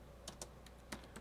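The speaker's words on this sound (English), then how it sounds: "Let me type that right here." Quiet computer keyboard typing, a handful of sparse, crisp key clicks at an uneven pace over a faint steady background hum.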